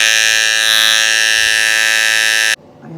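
An electric hair clipper running with a loud, harsh, steady buzz rich in high overtones, held close for over two seconds before being switched off abruptly, leaving faint handling noise.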